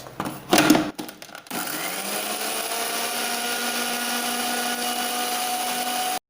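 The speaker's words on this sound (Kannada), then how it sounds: "ಒಂಚೂರು ಗ್ರೈಂಡ್ ಮಲ್ತೊನ್ವೆ" A kitchen mixer grinder whirs steadily as it grinds bottle gourd dosa batter, starting after a few clunks and rattles and then running as a loud, even, high-pitched motor hum to the end.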